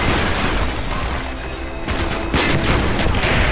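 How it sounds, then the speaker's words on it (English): Mortar fire in the Call of Duty Black Ops campaign, loud continuous battlefield gunfire and booms with several sharp bursts, dense and close throughout. "Firing mortar!"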